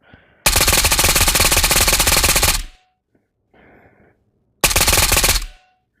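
An AS Val rifle in Ghost of Tabor fires two loud, close full-auto bursts: a long one of about two seconds and a shorter one. A brief mechanical handling sound falls between them.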